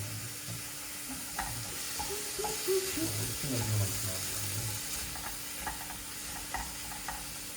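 Onion, tomato and carrot stirred in a sizzling pan, a continuous close frying hiss with soft scraping strokes, brief running-water sounds and a faint voice in the background.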